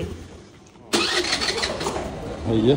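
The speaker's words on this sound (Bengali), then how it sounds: "ওই যে আমার বোন স্কুটি স্টার্ট দিচ্ছে" A scooter engine catches with a sudden loud burst and keeps running with a steady mid-pitched drone, heard outdoors in wet, rainy conditions with background noise.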